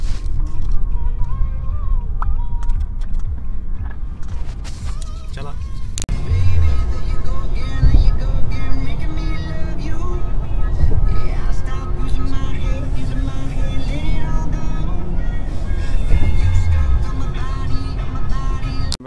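A car drives to a Countdown supermarket near Takapuna beach. A steady low road and engine rumble runs throughout, with people talking inside the car over it.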